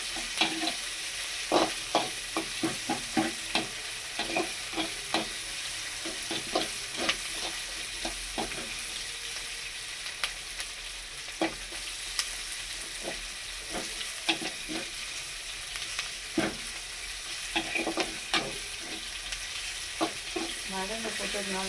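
Garlic, onion and shallots sautéing in a pan for karuvattu kuzhambu, a dried fish curry: continuous soft sizzling with frequent irregular scraping clicks from stirring, close-up and steady throughout.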